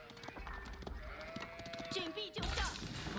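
Sheep bleating in Age of Empires 4: a few wavering bleats mixed with game sounds and clopping, with a voice talking over them.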